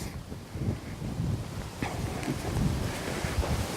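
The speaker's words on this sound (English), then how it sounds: "It's a really windy day." Wind buffets the microphone on a gusty day near horses, a steady rough rumble and rustle throughout with no talk.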